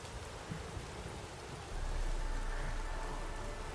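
Rain from a storm in The Witcher 3 pours steadily, close and hissing, and a deeper rumbling layer joins halfway through so the downpour grows heavier.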